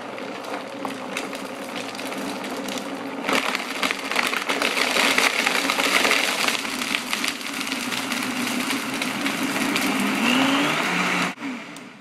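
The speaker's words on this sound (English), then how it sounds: "I'm gonna turn on the Green Monster Vitamix smoothie making machine" A Vitamix blender making a green smoothie whirs loudly and steadily for several seconds, its motor pitch shifting slightly as the contents churn, then cuts off abruptly near the end.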